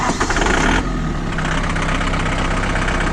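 John Deere 4520 tractor diesel engine cranking and catching, then settling into a steady idle around 1,000 rpm, loud and close.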